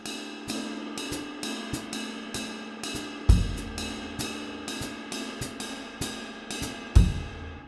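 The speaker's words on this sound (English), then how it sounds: "if you just have the basic 3-bar cycle phrase in jazz, it's going to sound like this" A basic three-bar cycle jazz phrase on a drum kit, steady ride cymbal strokes with hi-hat and soft kick, two heavier accented hits landing about four seconds apart, played alone at a moderate swing.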